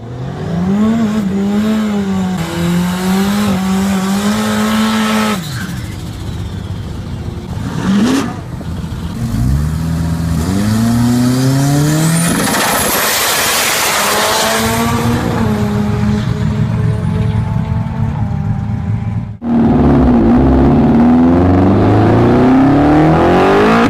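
A 1980s Ford Thunderbird Turbo Coupe with a turbocharged engine drives hard, its loud, close engine note rising and falling through repeated revs and gear changes, with brief tire squeal.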